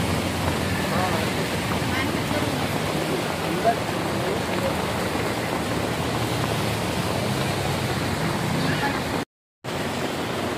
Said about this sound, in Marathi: हा, वरून पाणी पडतंय सगळं। वरून पाऊस आहे